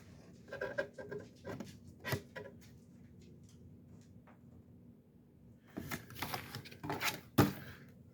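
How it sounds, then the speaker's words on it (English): Paper sheets and leaflets from a Hygrozyme root zone cleaner sample box are shuffled and handled close by, in soft rustling bursts separated by quiet pauses, with louder crinkling toward the end. "And one more piece of paper in here."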